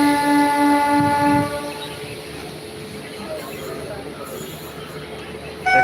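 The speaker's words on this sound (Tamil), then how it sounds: "ட்ரெயின் வருது." An express train arriving, heard as a loud sustained horn blast at the start, then a continuous rumbling roll of wheels and carriages nearby, with voices talking under it.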